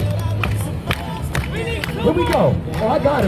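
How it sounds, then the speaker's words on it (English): A crowd on a New York street claps along in steady rhythm amid cheering and babble, with people talking and calling out over the noisy, close scene. "Now everybody clap those hands."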